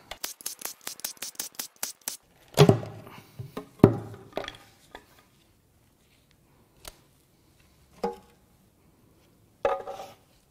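Lower oil pan being pulled off a Ford 4.0L SOHC V6 during teardown: a quick run of sharp metallic clicks and taps, then a few louder clunks and scrapes of the pan coming free, followed by sparse isolated knocks amid quiet.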